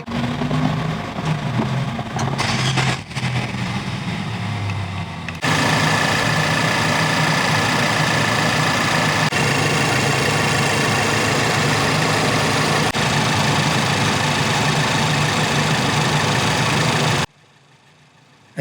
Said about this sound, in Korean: 엔진은 가솔린 엔진 치고는 좀 까랑까랑한 편입니다.